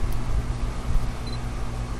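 A single-lens reflex camera shutter fires at a slow speed while handheld, a brief mechanical click and whir heard close up over steady room noise.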